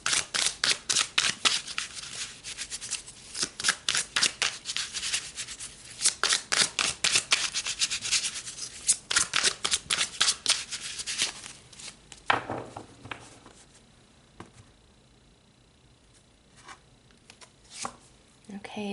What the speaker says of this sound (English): let's pull some more cards for you guys